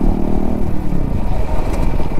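A 155 cc motorcycle engine hums loud and close while riding, a steady mid-pitched drone with some rattling, no talking.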